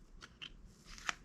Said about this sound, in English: I'm gonna get us a couple shuffles